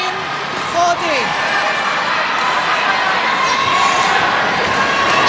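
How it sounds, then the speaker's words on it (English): Crowd at a Southeast Asian Games badminton men's singles match roars and cheers after a point is won, a loud, sustained swell of voices filling the hall, with a commentator speaking over it. "Great noise when Zulkarnain wins a point, and then almost silence when he loses one like that."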